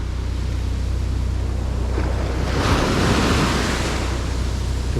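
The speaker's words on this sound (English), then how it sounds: "The Sulu Sea." Waves of the Sulu Sea wash continuously onto a beach, a steady roar of surf with a swelling crash midway, mixed with wind noise on the microphone and no voices.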